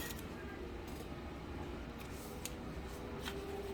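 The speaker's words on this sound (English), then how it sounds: "I'll pull this triangle up and snip off the end." Scissors snip several times, trimming the end off a fabric triangle while a backpack is being sewn. The cuts are crisp, close and quiet over a steady background hiss.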